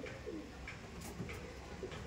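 Old Giribaz pigeons at a home loft give soft, low coos, a few faint murmuring calls spread over a quiet, steady background hum.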